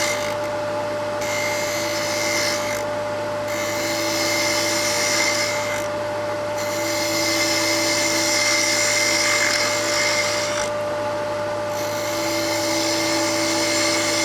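Wood lathe turning a bead with a Nano Revolution chatter tool riding the bevel: a steady motor whine with a constant tone runs throughout, and cutting noise swells and eases in several bursts, close and fairly loud, with no talking.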